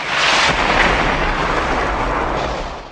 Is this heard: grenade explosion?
yes